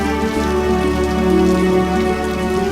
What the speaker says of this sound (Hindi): वर्षा को भी अभी आना था।